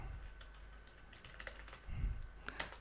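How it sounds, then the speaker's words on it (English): Keys tapped on a computer keyboard while names are entered into a Microsoft Access table, a quick irregular run of close, soft clicks over low background hum, with no voices. "you can also type here any other names as like Anand Singh"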